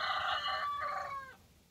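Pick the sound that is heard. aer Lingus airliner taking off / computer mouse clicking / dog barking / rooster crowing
rooster crowing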